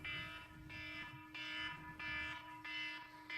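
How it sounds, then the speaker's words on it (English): An alarm sounds in repeated harsh buzzing bursts, about four pulses roughly half a second apart, loud and alone with no talking. "forgot to hit the button on the alarm."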